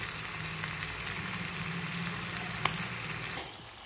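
Pork curry meat frying in a pan with turmeric sizzles in a steady, moderately quiet hiss, broken by a single small click and fading toward the end.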